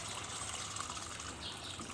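Excess rainwater is poured out of an overfilled plant pot after a cyclone storm in Guwahati, giving a steady close trickle and gush of liquid with no voices.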